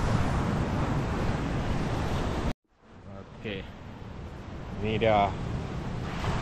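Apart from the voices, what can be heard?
ocean waves at Pantai Kaul Igan beach, Mukah, Sarawak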